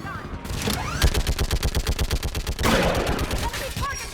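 Turret gunfire in Mass Effect 3 during the battle on Thessia: a loud, rapid, even burst of automatic shots rattling for a couple of seconds, amid explosions and battle noise, close and dominant.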